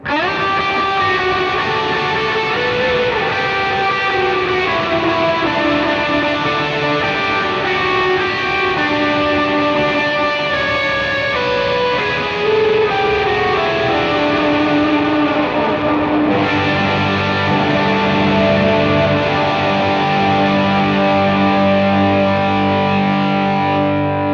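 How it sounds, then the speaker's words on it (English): Distorted electric guitar through an HX Stomp amp patch plays sustained chords and lines that ring out into a wash of echoing repeats and spacious reverb, loud and continuous. "If I turn up the delay and reverb, hit foot switch 2 there."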